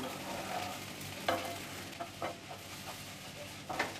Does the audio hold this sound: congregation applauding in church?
no